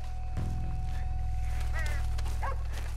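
Dogs whimper and bark in Red Dead Redemption 2, a few short yips and whines cutting through a low rumbling background, with a voice speaking over them.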